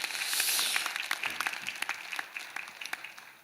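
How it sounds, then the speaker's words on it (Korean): A church congregation applauds in encouragement for a mission group, a dense burst of clapping that swells early and then thins into scattered, uneven claps as it fades. "한 번 더 격려하는 마음으로 박수하겠습니다"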